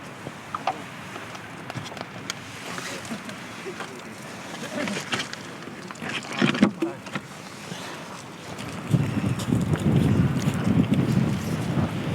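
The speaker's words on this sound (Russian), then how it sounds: "Вот это ветер." Strong wind roars and buffets the microphone in uneven gusts during a bike ride in Siberia, swelling into a heavier low rumble toward the end.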